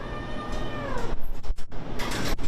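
Kittens in a cage at an animal shelter meow loudly and repeatedly, their cries rising and falling in quick succession against a noisy, busy background with no talking.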